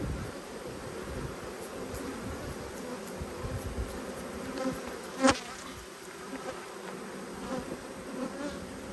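Honey bees buzz steadily around an open hive outdoors, a dense continuous drone of many insects with faint wind and one brief sharp knock midway.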